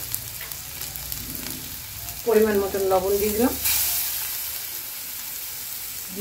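Potatoes for a jackfruit kofta recipe fry in hot oil in a pan with a soft continuous sizzle, while someone speaks briefly in the middle of the frying.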